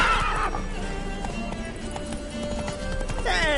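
Geralt's horse Roach gallops in The Witcher 3, hooves clip-clopping in a fast rhythm with a loud whinny, close and prominent under brief character shouts.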